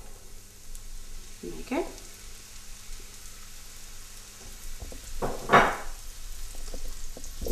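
Garlic and mushrooms fry in butter in a pan, a steady soft sizzle with a couple of stirring scrapes, close by, and a brief spoken remark near the end.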